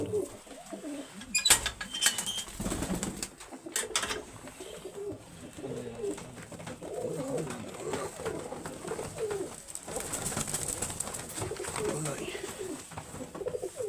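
Goodi-wale pigeons coo in soft repeated throaty rolls, nearby, with a few sharp knocks and rustles early on and some faint background sounds.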